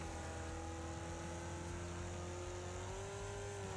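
A steady car engine drone from the racing video game Wreckfest, a continuous humming whir with a slowly rising tone, constant and even throughout with no talking.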